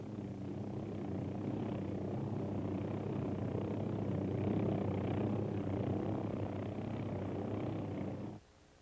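A Hughes OH-6 helicopter hovers with a loud, continuous rotor and turbine roar, holding steady up close before cutting off abruptly near the end.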